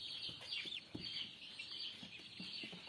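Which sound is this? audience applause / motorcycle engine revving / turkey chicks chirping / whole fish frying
turkey chicks chirping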